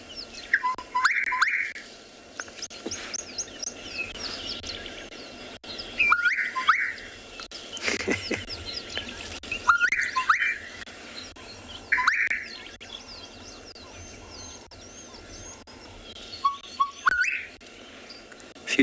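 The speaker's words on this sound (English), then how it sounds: "the gorgeous bush shrike. Beautiful bird." Gorgeous bush shrike calls play back in several separate bursts of sharp, whistled notes spread across the recording, with steady quiet background hiss between them and a few variations in the phrasing.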